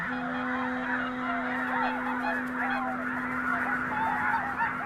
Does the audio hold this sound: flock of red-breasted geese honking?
yes